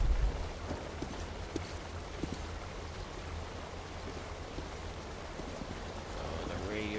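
Radioactive rain falling in the video game Metro Last Light Redux, a steady hiss of rainfall throughout, with faint game clicks and ambience layered over it.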